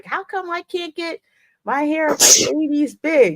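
One sharp sneeze bursts out in the middle of close, casual conversation, brief and loud among the surrounding voices.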